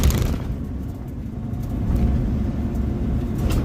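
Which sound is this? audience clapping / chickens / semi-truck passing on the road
semi-truck passing on the road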